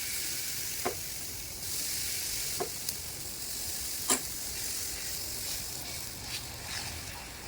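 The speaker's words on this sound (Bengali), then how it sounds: "এখন আর কি পিঠা ভেজে নিব।" Banana and flour pitha fry in oil with a steady hiss and crackle, punctuated by a few sharp spatters and utensil clicks at uneven intervals.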